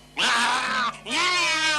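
A cartoon cat in a 1983 animated film with Slovak dubbing lets out two loud, drawn-out yowls, the first long and wavering, then a short break before a second rising cry.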